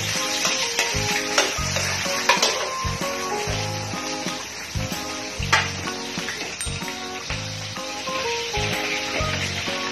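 Ginger sizzling in a hot pan for Bicol Express, a steady crackling hiss with occasional stirring scrapes, set under a bed of background music.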